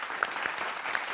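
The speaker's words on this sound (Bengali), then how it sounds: "জোরে হাততালি হয়ে যাক" Applause from a studio audience on a Bengali family game show after a family's round win: a steady, even patter of many hands lasting about a second.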